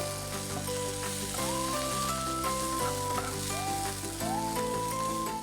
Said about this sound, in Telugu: తర్వాత బ్రోక్లీ ఇంకా స్వీట్ కార్న్ వేసేస్తున్నా.